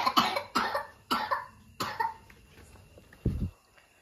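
Four sharp coughs from a child, evenly spaced and close to the microphone, each with a rough, breathy burst, followed by a short low thump.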